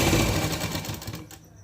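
A sewing machine runs steadily while stitching around the neckline of a crop top, a loud, close, continuous mechanical whir that slows and stops near the end.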